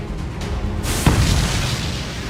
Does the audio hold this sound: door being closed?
no